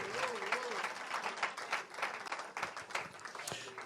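A church congregation claps steadily at a moderate distance, with a continuous wash of applause and a voice faintly audible underneath.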